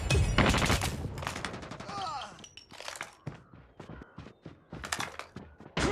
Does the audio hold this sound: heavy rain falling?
no